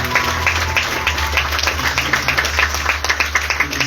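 Church congregation at an anniversary service clapping loudly and steadily, a dense continuous applause from many hands close by.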